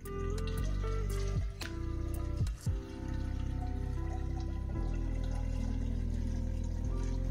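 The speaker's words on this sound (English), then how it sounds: "so let's get some coolant in." Coolant poured into the cooling system of a Citroën BX after a thermostat replacement, with a quiet liquid glug and trickle, irregular drips and gurgles over a steady hum, and no voices.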